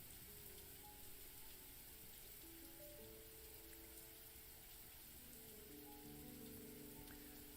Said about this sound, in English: this rain's kind of loud